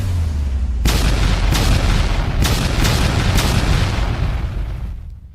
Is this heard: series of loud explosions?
yes